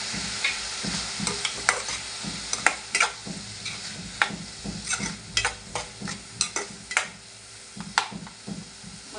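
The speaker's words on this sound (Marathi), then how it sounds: "कांद्यामध्ये आपण परतून घ्यायचं आपल्याला" Onion and tomato sautéing in a pan, a steady close sizzle with repeated scraping strokes of a spatula stirring at an irregular rhythm.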